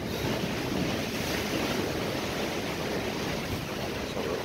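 Surf from the incoming tide washes against Bournemouth pier in a steady, continuous roar, mixed with wind buffeting the microphone, with no talking.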